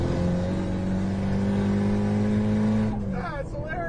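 A tuned turbocharged car engine hums at steady revs, then its pitch sweeps and warbles as the throttle is blipped near the end, heard close up from inside the car.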